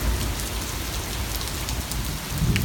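Heavy rain pours during a severe August thunderstorm in New York City, a loud, unbroken roar of drops with a low rumble swelling near the end.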